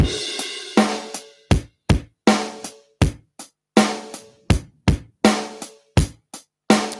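A drum beat plays a steady pattern of sharp, resonant hits with two bass drum strikes in each bar, each hit ringing and decaying before the next, and a short fill woven in.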